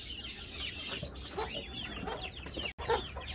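Pheasants in a cage make busy clucking and chirping calls up close. The calls overlap continuously with no speech.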